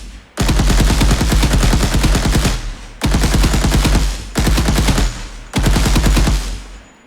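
Four loud bursts of rapid automatic gunfire from a third-person shooter game built in Unreal Engine, each a fast rattling string of shots separated by short gaps, with no talk.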